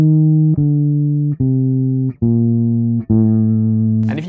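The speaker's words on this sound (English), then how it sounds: "what you hear is we have this beautifully descending melodic bass line" A bass guitar plays a descending melodic bass line, moving through five sustained, ringing notes that step down, with nothing else playing underneath.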